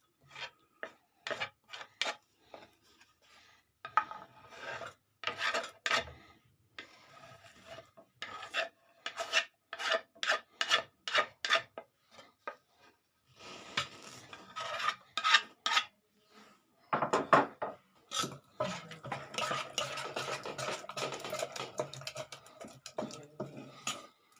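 Rice flour adai batter being mixed with vegetables by hand or spoon in a bowl, producing rhythmic rasping, scraping strokes in short bursts with brief pauses, close and fairly loud, with no speech.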